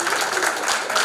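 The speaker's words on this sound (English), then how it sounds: "Give a big applause for our" Applause from a conference audience after a panel discussion on retail and big data, a steady dense wash of clapping lasting just over a second, fairly loud and even.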